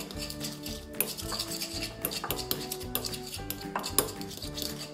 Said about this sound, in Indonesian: saya aduk dulu sebentar, sedikit.